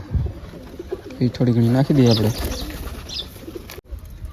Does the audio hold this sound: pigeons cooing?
yes